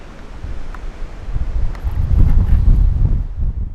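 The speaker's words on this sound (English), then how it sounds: "So we had just a little bit of a windstorm move through." Gusty wind from a windstorm outdoors under a carport at a shooting spot, rumbling microphone buffeting that swells and grows louder toward the middle, with faint rustling and no voices.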